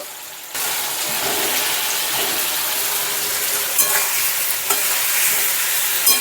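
Whole potatoes frying in oil with melted tomato and ginger for a red Kashmiri aloo dum, a steady loud sizzle with a few scraping stirs of a spoon against the pan.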